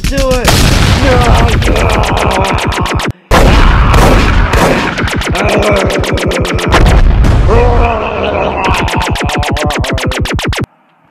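Cannon fire in a game, delivered as rapid, loud, evenly spaced booming shots in long bursts with brief pauses, close and dominating.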